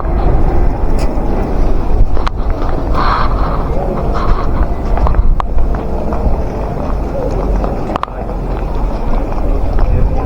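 Steady broadband wind rush buffets the microphone throughout, with a few faint distant voices and occasional knocks underneath.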